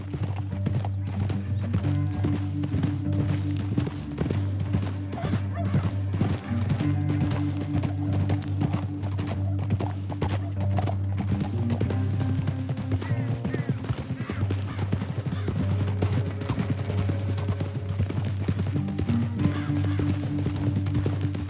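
Horse hooves clip-clop in a steady, driving gallop in Red Dead Redemption 2, close and continuous over a low rumbling music bed, with snorts from the horse.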